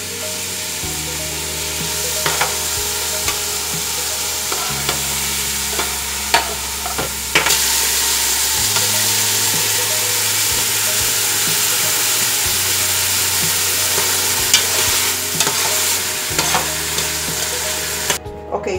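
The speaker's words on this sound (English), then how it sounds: "Peppers and onions. I'm gonna saute this for a little bit in here." Peppers and onions sauté in a pot, a loud steady sizzle running the whole time with occasional clicks and scrapes of stirring, near and without voices.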